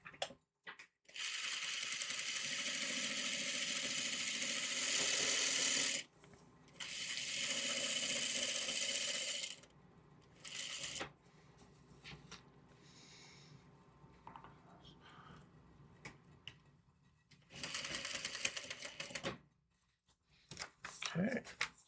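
A sewing machine stitches quilt pieces for a diamond pendant quilt in long sustained runs of several seconds, steady and fairly loud, with quieter stretches of handling and a few shorter bursts later on.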